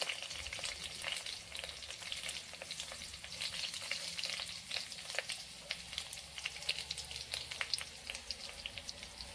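Onion frying in a pan for Mangalore egg drop sambar, a steady crackling sizzle with frequent sharp pops and spatters, close and fairly quiet, continuing without pause.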